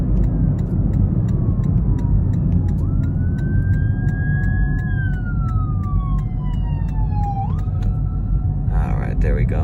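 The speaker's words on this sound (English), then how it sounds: "Oh, emergency vehicle." Emergency vehicle siren on a desert highway between Las Vegas and Death Valley, its wailing tone rising and falling over a constant loud car-interior road rumble, heard from inside a moving car.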